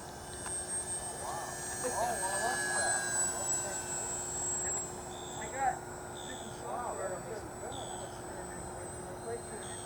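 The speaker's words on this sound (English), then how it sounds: "What a beautiful plane." A Cessna 182 Skylane single-engine airplane drones steadily in flight, a fairly faint, continuous engine hum with a constant tone, heard under intermittent talking.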